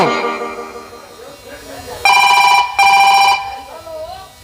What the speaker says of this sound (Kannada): ಜಿತೇಂದ್ರ ಫೋನ್ ಹಚ್ಚಿ ಹೇಳುವ ಅಡತಿ ಅಂಗಡಿಯ ಅರವಿಂದ್ರನಿಗೆ ಹಣ ಕೊಡಬೇಡ ಅಂತೇಳಿ ತಗೋ ಫೋನು